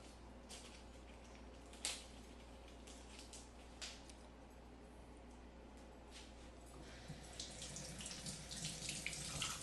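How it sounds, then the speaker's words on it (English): Tap water runs steadily from a kitchen faucet while a purple onion is rinsed under it, a soft continuous hiss that swells a little louder near the end, with no talking. "My onion had a little bit of dirt on it, so I'm just gonna, that's why I went ahead and rinsed it."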